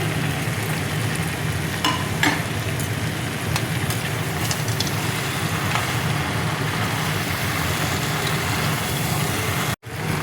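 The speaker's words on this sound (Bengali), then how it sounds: "মশলাটা দেখো ভালো করে কষিয়ে নেব।" Masala spice paste fries in a pan for a curry, a steady close sizzle with faint stirring scrapes running unbroken throughout.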